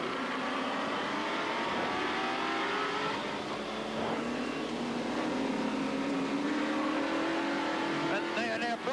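Touring cars from a 1986 ATCC race circuit in traffic, engines droning and rising in pitch as they accelerate, a steady loud mechanical roar heard from onboard throughout.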